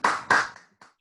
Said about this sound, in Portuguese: Salva de palmas, galera.